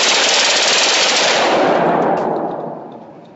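A Soviet PPSh-41 World War II submachine gun fired at a shooting range, one loud, rapid sustained burst lasting about two seconds that then fades, with no talking.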